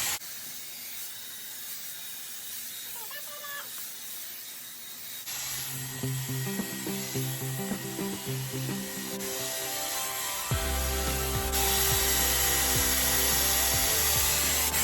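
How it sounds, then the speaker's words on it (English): A Dyson Airwrap hair styler set to its highest heat blows a steady, rushing hiss of air close by. The airflow steps up in loudness a couple of times as it runs, and no one speaks. "So what I'm gonna do is I'm gonna turn this on. I'm gonna put it on the highest heat."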